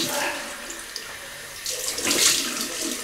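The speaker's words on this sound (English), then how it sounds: "So we'll rinse off with cold water." Cold water runs from a tap in a bathroom sink while a face is rinsed after shaving, a close hissing stream that swells with splashes near the end.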